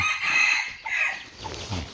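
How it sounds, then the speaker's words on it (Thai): Chickens cluck and a rooster crows in a temple yard, the calls loud and close, overlapping in short bursts with no talk. "ไก่เต็มวัดเลยนะ"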